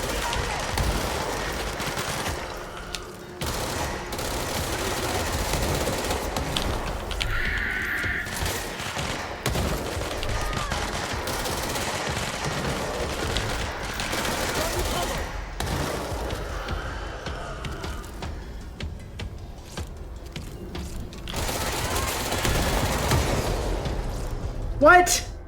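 Rapid bursts of gunfire and explosive pops from the video game Control crackle almost continuously at moderate volume, with a voice talking over much of the fighting.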